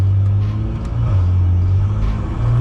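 BMW M240i with a turbocharged B58 engine pulling hard in third gear, a loud, steady exhaust drone rising in pitch with a brief dip mid-pull, heard from inside the car.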